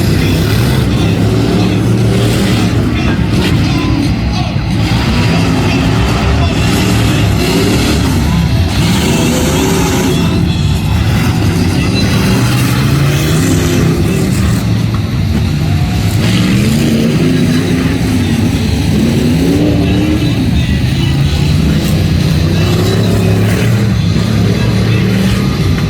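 Tuff truck machines at a Friday-night competition in Miami, Oklahoma, roar loudly with engines rising and falling through repeated revs, filling the entire stretch with close, heavy engine noise.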